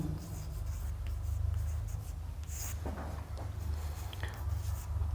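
Pen scratches steadily across paper while working a maths solution for a class 10 discriminant lesson, continuous soft strokes over a constant low hum, with no talk.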